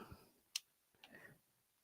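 A few faint, scattered clicks of keyboard typing in a quiet room, one sharper tap followed by a couple of softer keystrokes.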